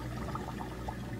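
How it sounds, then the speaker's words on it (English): Steady water rushing through a dishwasher drain air gap after a clog was cleared, a continuous low gurgling flow that holds at an even level throughout. "we have really good water flow"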